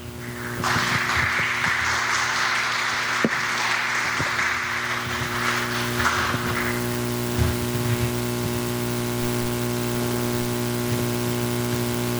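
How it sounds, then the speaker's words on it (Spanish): Audience applause for a speaker invited to the head table at a legal history seminar, a steady broadband patter in the first six seconds over a constant electrical hum, then fading out and leaving only the hum. "No sin antes ofrecerle una salva de aplausos."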